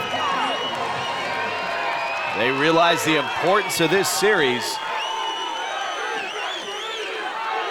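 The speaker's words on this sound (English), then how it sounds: "This crowd coming to life." Crowd at a 2015 Legends Football League game, Seattle Mist versus LA Temptation, on third and goal, roaring steadily, with a louder burst of whooping cheers in the middle, under a commentator's voice.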